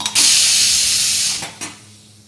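Steam hisses loudly from a cooking pot on a gas stove for over a second, then gives one brief, weaker puff before fading out; no one talks.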